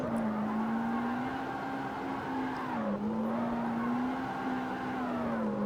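A car engine in CarX Street, a low-class car with cheap stage 1 cams, holds a high, steady rev in third gear with slight rises and dips, a continuous droning whine as if sliding through a long drift.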